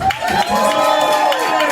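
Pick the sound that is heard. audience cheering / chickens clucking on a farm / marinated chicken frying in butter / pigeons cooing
audience cheering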